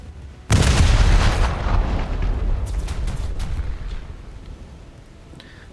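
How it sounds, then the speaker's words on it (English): Naval guns in a warship video game open fire on a Hunt class destroyer with a sudden heavy boom that rolls into a long rumbling tail, followed by fainter scattered blasts as the noise slowly fades. "So you start shooting at this Hunt class."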